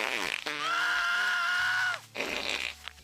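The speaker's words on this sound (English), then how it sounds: "Have you seen it with fart noises?" A comedic fart noise edited into a streamed video: one long, drawn-out buzzing tone with a rising pitch, preceded and followed by brief shouts and exclamations.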